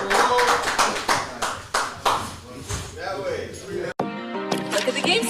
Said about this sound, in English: Can we get a hand clap or something